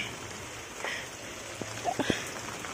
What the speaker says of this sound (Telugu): బెండకాయ వర్షం పడుతుంది యాక్చువల్లీ.